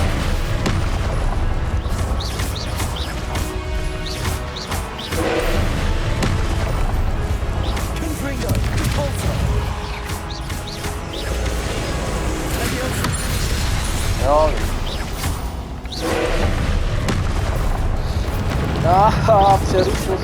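A Confringo blasting spell detonates in Hogwarts Legacy, a series of loud booming explosions with crackling debris over game music, with someone talking between the blasts.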